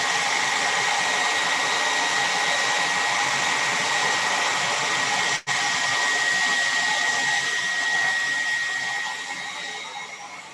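A handheld hair dryer blows steadily on clay coating a mandala, a loud continuous whirring hiss with a brief cutout midway before it resumes and slowly fades.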